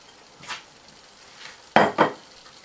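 Carrot halwa with almonds and coconut being stirred in a pan, giving a few scraping, clattering strokes close by, one faint then two louder ones in quick succession, over a quiet background.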